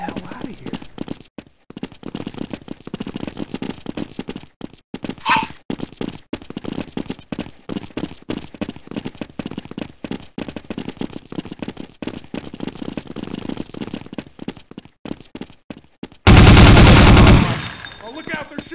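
Counter-Strike: Condition Zero gunfire on the cs_office map crackles in rapid, steady bursts throughout, ending in a sudden loud blast near the close, with voices speaking in between.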